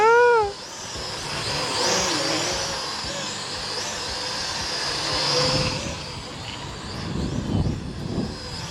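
A DEERC D10 foldable budget drone hovers and flies outdoors, its propellers giving a steady high-pitched whine that rises and falls slightly, with gusty wind noise underneath.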